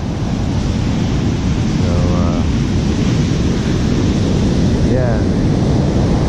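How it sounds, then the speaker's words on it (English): Large ocean waves break on a beach after a hurricane, a loud continuous roar of surf mixed with wind buffeting the microphone, with a person speaking briefly. "The waves over there are kind of coming from the north. There's some big ones."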